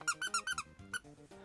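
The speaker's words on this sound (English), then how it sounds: "Look at this squeaker, isn't there?" A crocheted toy squeaker is squeezed five times in quick, even succession, then gives one more squeak after a short pause, bright and close at a low level.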